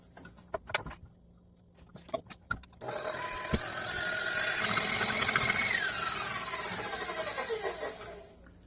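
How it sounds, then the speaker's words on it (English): After a few taps and clatters, an electric mixer whirs loudly and continuously for several seconds as it whips high-quality Wisconsin heavy cream, its pitch slowly dropping as the cream stiffens. "Nice high quality Wisconsin heavy cream. And then the whipping."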